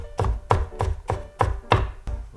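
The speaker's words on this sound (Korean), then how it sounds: "다음은 당근 3분의 1개 채 썰어 주시고요" A knife julienning a third of a carrot on a cutting board, seven firm, evenly spaced chops about three a second, close and crisp, with no talking.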